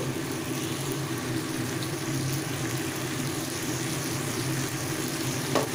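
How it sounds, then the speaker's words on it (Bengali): Vegetables fry in a pan over a full gas flame, giving a steady, dense sizzle that holds at an even level throughout with no talking. "এবার গ্যাসটাকে আমি ফুল ফ্লেমে দিয়ে দিচ্ছি এবার সবজিগুলোকে আরেকটু ফ্রাই করে নিচ্ছি"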